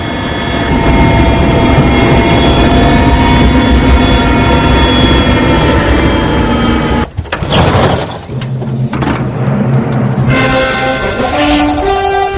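UN helicopter flying over South Sudan on the way to Bor, a loud steady rotor and turbine roar filling the cabin, then abruptly cut to quieter, shifting mechanical and ambient sounds with scattered tones.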